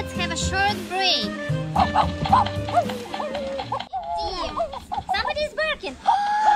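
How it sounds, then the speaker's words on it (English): A dog barks repeatedly in quick yips and woofs, close by at a zoo, mixed with children's excited voices talking over it. "Here it's like somebody is barking."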